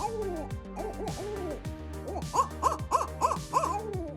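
A large owl hoots in a steady series of deep, resonant calls. They begin softer and grow louder and closer-sounding, ending in a quick rhythmic run of hoots heard alone.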